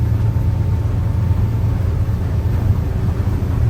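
Inside the closed cabin of a 2025 T25 Explorer boat powered by a 300 hp Mercury Verado outboard, a steady low engine rumble and hum drones evenly, muffled and constant, with no voices.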